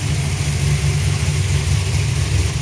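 A car that had been sitting unused, recently fitted with a new carburetor, idles right after a fresh start with a steady, close, low engine rumble and no talking.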